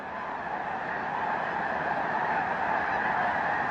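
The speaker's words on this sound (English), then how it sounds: "The sound of the birds." A large flock of snow geese at a wildlife refuge, a dense continuous chorus of overlapping honks, steady and fairly loud, like a massed crowd of birds with no single calls standing out.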